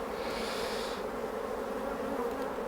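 Honey bees buzz in a dense, steady drone around an open hive with frames of stored winter stores, the swarm sound close and continuous throughout.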